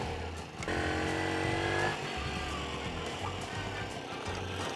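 Small motorbike engine running steadily on its first ride after restoration, a close, continuous buzzing drone that holds level with slight rises and falls and no speech over it.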